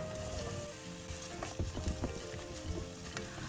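Green onion and garlic stir-frying in a spoonful of cooking oil in a hot pan, a steady close sizzle with scattered spatula scrapes and taps, no talking.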